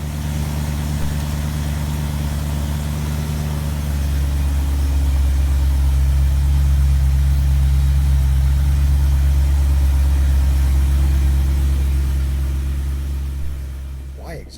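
A BMW E92 M3 idles steadily nearby, a deep, even rumble that swells slightly midway and stays loud and constant throughout, with no talking over it.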